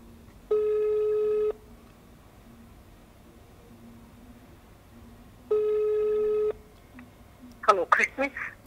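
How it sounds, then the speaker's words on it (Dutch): A telephone rings twice while a call is being placed, each long steady tone about a second long with a pause between, followed by a brief voice at the end. "En ik ga haar eventjes opbellen."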